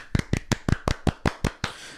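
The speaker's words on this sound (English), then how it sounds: "Give him a round of applause." About eight crisp hand claps in a quick, steady rhythm, close and clear, from a small group or a single person in a podcast studio, with no talking.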